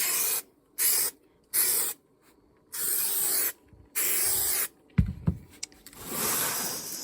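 Aerosol can of spray adhesive spraying in several short hissing bursts, then two longer sprays, followed by a brief clatter and a final sustained hiss, close by.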